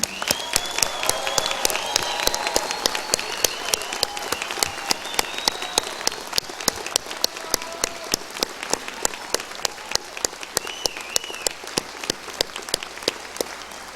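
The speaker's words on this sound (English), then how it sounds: "join me in applauding the Rutgers School of Nursing Camden class of 2013" A crowd at a Rutgers School of Nursing Camden graduation applauds the class of 2013. Dense clapping is punctuated by crisp individual claps, with faint cheers and whoops rising above it early on.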